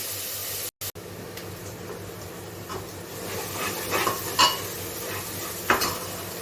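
Onions frying in a pan with coriander powder, garam masala and salt: steady metallic scraping and clinks of a spoon stirring against the pan, with a light sizzle underneath and a few louder knocks toward the end.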